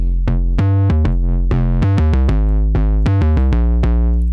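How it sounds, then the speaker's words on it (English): Electric guitar run through a saturator set to a hard curve ahead of a distortion pedal, playing a steady sequence of picked, sustained notes with thick harmonic buzz, loud and close, with no talking. "if I took this saturator and I drove it a little bit, okay, and I put it on hard curve"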